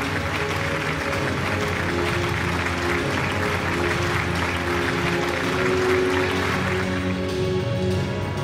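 Audience applause at the Chittara Star Awards 2024 ceremony, a dense, steady roar of many hands clapping that holds for several seconds without a break.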